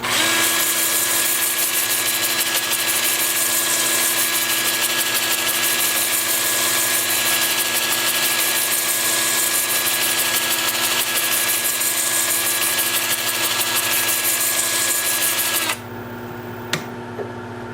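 A steady, loud whirring of a lathe with sandpaper rubbing against a spinning wooden root, running continuously before cutting off abruptly near the end.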